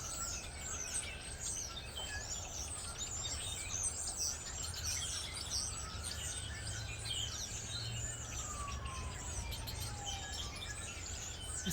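Birds sing and chirp in a big tree, a continuous chorus of bright overlapping calls and tweets, fairly faint over a steady low ambient hum, with no talking.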